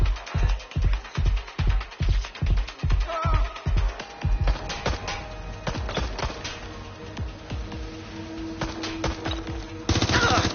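Gunfire erupts in the video game Watch Dogs Legion: a steady run of about a dozen loud, evenly spaced shots, then denser overlapping bursts and scattered shots over background game sound.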